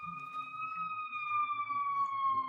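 An emergency vehicle siren sounds outside a window, a steady wailing tone that drifts slowly downward in pitch, moderately loud and heard alone.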